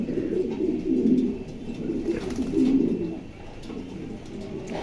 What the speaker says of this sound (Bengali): দেখেন কবুতর কতটা গরম